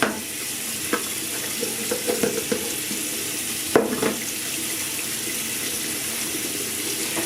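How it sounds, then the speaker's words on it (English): A razor rinsing under a running tap, with steady broadband water flow throughout and occasional louder clinks and splashes of the blade against the stream, close and alone without speech. "loosen the razor and rinse it"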